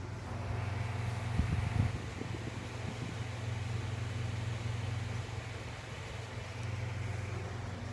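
Alienware M17 R2 gaming laptop cooling fan running at full speed, a steady even whir with a low hum, heard close and unchanging throughout, no talk.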